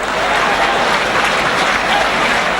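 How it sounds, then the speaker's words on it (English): Spectators at a 1987 rugby league match between Lancashire and Papua New Guinea applaud, a broad steady wash of clapping from a large crowd with no break. "Good applause."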